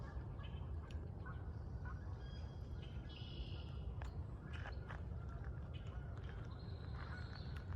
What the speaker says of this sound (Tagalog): Narinig yung mga ibon